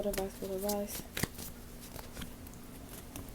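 Tarot cards are shuffled by hand in a quick riffling burst, clear and close, while a voice briefly speaks over the start.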